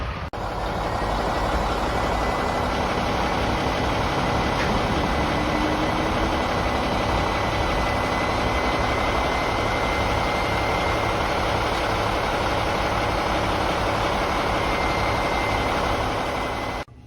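A large truck idles steadily at a grain elevator scale, its low diesel rumble continuous and close for the whole stretch, with a faint higher whine running over it and no talking.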